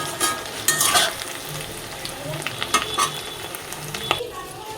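Potato pieces frying in hot oil are lifted out with a spatula, a continuous sizzle under scattered scrapes and metallic clinks against the pan, close and moderately loud, without speech.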